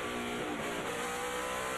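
Race cars roar back to speed at a restart, a dense, steady blast of engines at close range with rising pitch as the pack accelerates together.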